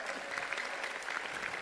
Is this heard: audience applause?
yes